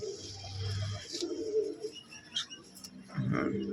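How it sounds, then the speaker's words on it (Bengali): Soft cooing of a Madras breed pigeon close by, low murmuring coos repeating over a quiet background with a few faint chirps. "এই যে পায়রা"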